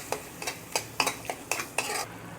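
Dal with Maggi masala being stirred in a pan, a spoon scraping and clinking against the metal in about eight quick, evenly spaced strokes, close and moderately loud, with no talking.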